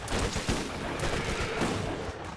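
Gunfire in the video game Friday Night Combat, a loud, dense burst of rapid shots and impacts running continuously through the whole stretch, with no talking.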